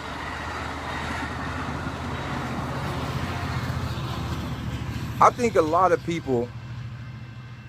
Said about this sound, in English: wait till this train go by.